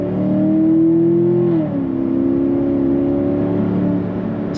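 A 2015 Chevrolet Corvette 3LT Z51 with automatic transmission in sport mode gives a steady, loud engine drone that rises, then drops briefly at a gear change before holding again, close and alone without talk.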